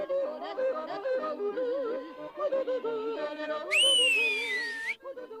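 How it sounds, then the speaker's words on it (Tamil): Someone whistles a rising and falling tune close by, heard after a stretch of tuneful humming or singing voices, in an Alpine village setting from a Tamil-dubbed cartoon. "உனக்கு நான் விசில் அடிக்க கத்து தரேன்"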